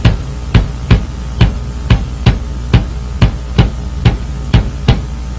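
A single bass drum on a drum kit thumps evenly and alone, about a dozen deep, punchy hits at a steady pulse with clear gaps between them.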